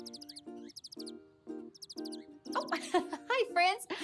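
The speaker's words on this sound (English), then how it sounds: "You're right. Those are birds." Short, high bird chirps repeat in quick bursts between soft tones, followed by a brighter flurry of tweeting near the end.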